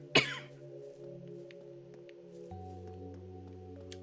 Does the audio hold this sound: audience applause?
no